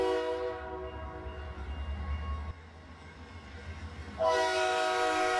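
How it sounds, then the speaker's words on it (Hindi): The Gyanodaya Express train runs along the tracks with a rumbling roll, and a loud, sustained horn blares at the start and again toward the end, heard at moderate distance. "ज्ञानोदय एक्सप्रेस फिर से छुक छुक करती पटरियों"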